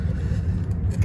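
A Yamaha YFZ450 ATV engine runs at a steady low rumble, close and continuous for the whole brief moment, with no voices.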